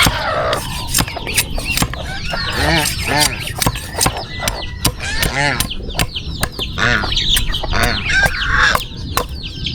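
Loud honking and squawking from several geese close by, repeated bursts mixed with clucks and sharp clicks, with no pause between calls.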